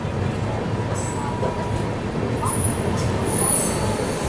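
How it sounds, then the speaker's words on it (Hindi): Tamil Nadu Superfast Express pulling out of Balharshah, a steady rumbling rail roar heard from inside the coach, with faint high wheel squeals now and then. "चलिए निकल गई ट्रेन अपनी दोस्तों बल्हारशाह से।"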